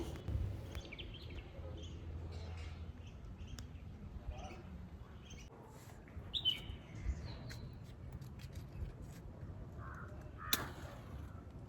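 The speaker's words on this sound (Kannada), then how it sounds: "ಊಟಿಲಿ ಯಾವ ಪ್ಲೇಸ್ಗೆ ಹೋದರೂ ಈ ಬರ್ಡ್ಸ್ ಸೌಂಡ್ ಅಂತೂ ಕೇಳಿಸ್ತಾನೆ ಇರುತ್ತೆ" Birds call and chirp in a garden in Ooty, faint scattered crow caws and tweets over a steady low background hum.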